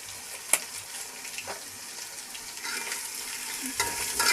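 A ground paste of garlic, ginger and cumin with salt fries in a pan for yakhni pulao. The sizzle is moderate, with stirring scrapes and a sharp tap, and it swells toward the end.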